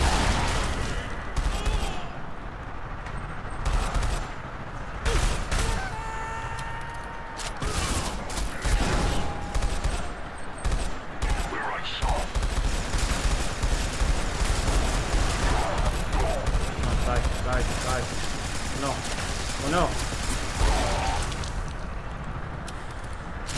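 Gunfire rattles through a firefight in SiN Episodes: Emergence, with bursts of shots and mechanical clatter packed densely across the stretch and broken by a few brief gaps.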